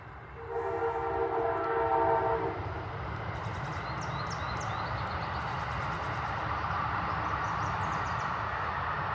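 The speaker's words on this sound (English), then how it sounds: "I'll let this train go by." A train passes by outdoors near water, its horn blowing in long steady blasts early on, then a continuous rumbling roar of railcars rolling past, loud and close throughout with no talk.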